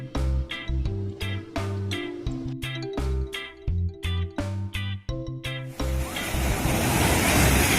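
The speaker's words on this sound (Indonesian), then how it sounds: "Salah satu pantai yang paling terkenal di Banten adalah Pantai Anyer." Surf at Pantai Anyer beach in Banten washes in as a steady broadband hiss and roar, taking over after several seconds of rhythmic instrumental music.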